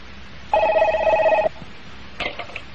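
A telephone rings indoors with one bright electronic trill lasting about a second, then a shorter partial ring begins, close and clear with no talk over it.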